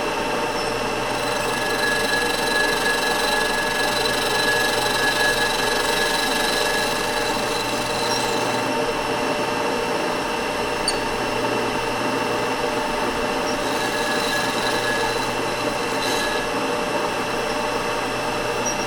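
A machine resurfaces the exhaust manifold flange of a 6.0 LS engine, a steady grinding, rasping whir that runs without a break and carries a high whine, with no talking.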